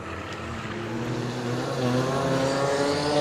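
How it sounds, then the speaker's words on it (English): A race car engine drones steadily on the Willow Springs speedway during an endurance race, its tone rising and swelling louder as the car draws closer, with no voices over it. "That car's running again, and it's on track."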